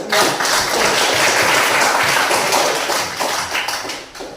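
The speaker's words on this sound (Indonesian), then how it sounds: "tepuk tangan dulu" A classroom of students applauds together, a loud burst of close, dense hand clapping that holds steady for a few seconds before tapering off.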